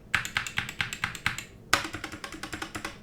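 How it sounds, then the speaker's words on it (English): Keys pressed on an SK61 60% gaming keyboard, a rapid string of sharp, close clicky taps at an even rhythm, a short pause, then another faster run of keystrokes. "Now let me go on and hit the enter key."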